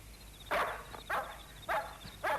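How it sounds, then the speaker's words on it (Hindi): Dogs barking at night, four sharp barks spaced roughly evenly over a couple of seconds, moderately close, with a faint steady insect-like whine behind them and no voices. "कुत्ते बावले हो रहे हैं। सोने नहीं देंगे।"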